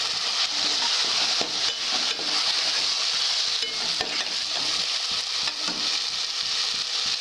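Boiled chickpeas fry with tomato in a pan for channa masala gravy, a steady close sizzle with scraping stirs running throughout, no voices.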